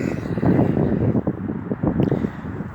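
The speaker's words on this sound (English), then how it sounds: "So the wind comes out of nowhere to create motion for you, even though it wasn't windy." Gusty wind buffets the microphone in a steady, close rumble that rises and falls slightly, with no voices over it.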